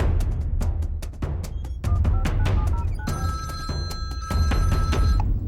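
A telephone bell rings in quick repeated bursts and keeps going, loud and close, with a steady electronic ring-tone layer joining partway through. No one speaks over it.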